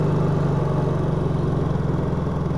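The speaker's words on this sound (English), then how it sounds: "Let's check how she idles, low idle." A Honda EU3000is generator converted to run on propane idles at low idle with a steady, even mid-pitched engine hum and fine rhythmic pulsing, close and continuous.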